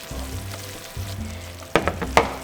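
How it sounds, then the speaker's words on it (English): A tofu stir fry simmers and sizzles in a pan with a soft, steady crackle, punctuated near the end by a couple of sharp clinks and stirring knocks. "I'll let it simmer for like a few minutes."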